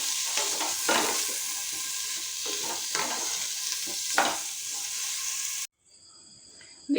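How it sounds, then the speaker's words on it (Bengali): Vegetables, potatoes among them, fry with a steady loud sizzle in a pan for khichuri, punctuated by stirring scrapes, then cutting out to near quiet with a faint tonal hum. "এবার প্রতিটা সবজিকেই এরকমভাবে একটু করে আমি প্রথমে একটু ভেজে তুলে নেব"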